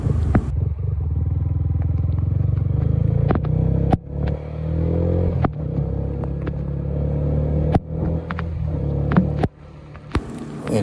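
A Sniper 155 motorcycle rides through the city streets of Baguio after a typhoon, its engine droning steadily near and loud with a low rumble, broken by several sharp clatters and bumps along the way.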